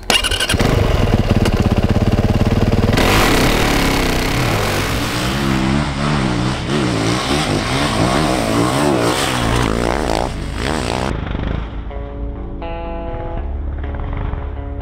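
An enduro motorcycle engine starts and revs hard nearby, rising and falling in pitch with rough throttle bursts, then settles into a lower idle.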